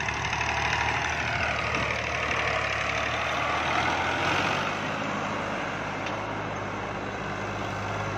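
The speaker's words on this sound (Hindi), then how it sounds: "मकैनिकल बहुत चंगा ट्रैक्टर है जी" A mechanical tractor with an 11-tine plough idles steadily, a low even engine rumble that holds at an unchanging pace throughout, fairly quiet and alone without any talking.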